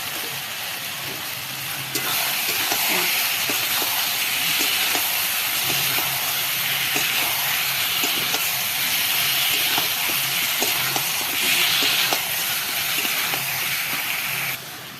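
Chicken paste hitting a pan of fried spice masala, giving a loud, steady hiss and sizzle that runs continuously for about fifteen seconds with small crackles and pops scattered throughout.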